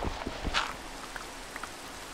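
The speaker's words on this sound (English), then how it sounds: "It's not gonna stop raining today, is it?" Rain falls in the video game Minecraft as a faint, steady patter. A few sharper drop-like ticks stand out near the start and then scatter sparsely.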